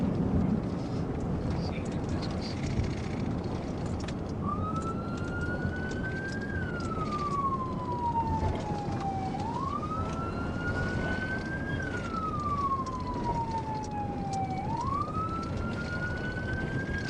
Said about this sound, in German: Der Altima ignorierte die Blaulichter und Sirenen und floh über den Highway 101